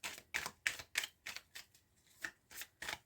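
Tarot cards are cut and shuffled close up, a series of about ten crisp riffling bursts in a quick, fairly regular rhythm, quiet and alone with no talk.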